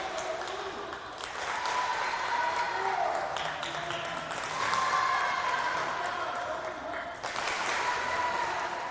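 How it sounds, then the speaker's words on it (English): A crowd claps steadily through team introductions at a high school game between the SFHS War Eagles and Lambert High School, the applause swelling and easing in waves, with faint voices mixed in. "Lambert getting a decent amount of claps."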